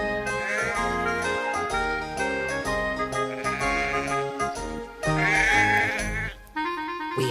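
Sheep bleat repeatedly over a continuous musical backdrop, with wavering, drawn-out baas rising to loud peaks and a faint jingle mixed in.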